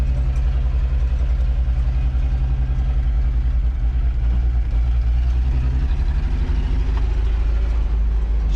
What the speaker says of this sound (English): She runs like she may have a flat spot in the carburetor and a welded spark plug wire